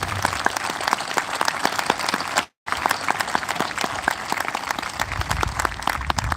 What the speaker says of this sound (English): I would like for everyone right now to give all 10 of those people a round of applause